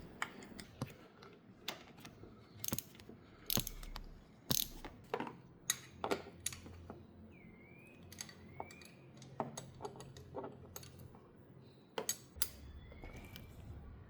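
Tools unscrewing a part on a Honda Africa Twin CRF1100 front fork during a seal change, a faint series of sharp, irregular metallic clicks and ticks close by.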